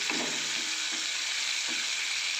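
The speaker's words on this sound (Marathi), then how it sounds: "छोले मसाला छान लालसर रंग येईपर्यंत आपल्याला कांदा परतवून घ्यायचा आहे" Onions and tomato fry in a pan for chole masala, giving a dense, even sizzle that carries straight through, close and steady, with a couple of soft stirring scrapes and no voices.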